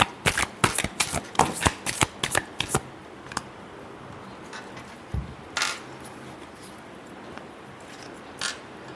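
Tarot cards shuffled by hand in a series of rapid riffling bursts close to the microphone, followed by quieter, scattered card taps and a few more brief riffles.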